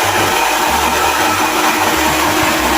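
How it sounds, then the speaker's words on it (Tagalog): A blower runs loud and steady the whole time, a dense, even whooshing roar with a low hum beneath it and no voices. "With blower."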